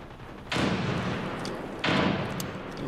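Two heavy, booming grenade blasts in the video game PUBG, each hitting suddenly and rolling out for about a second, spaced roughly a second and a half apart.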